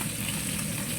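Fish frying in a pan, a steady close sizzle and crackle of hot oil running without pause, with no talking over it.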